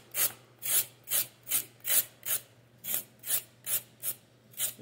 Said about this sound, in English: This is how I scrape the carrots.